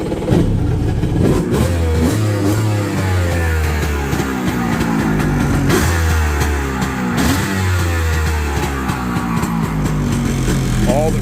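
A Kawasaki 900STX jet ski engine running cold without a choke on premix fuel, loud and close, idling roughly with repeated revs rising and falling across the stretch; a voice speaks over it.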